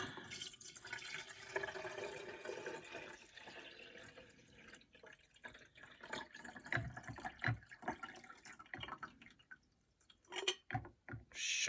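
Water poured into a 1990s Swan Teasmade tea maker: faint trickling and splashing liquid with a few small clunks, irregular and quiet, no talk.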